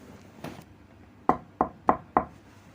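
Knocking on a tinted car window, four sharp raps in an even, quick rhythm, close and clear after a faint earlier rustle.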